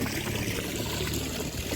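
Tap water pours steadily and close by into a pot and a bucket as they fill at home, a continuous dense trickling rush with no voices.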